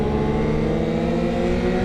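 A BMW S1000RR motorcycle engine drones loud and close at a steady pitch while riding, with no voices.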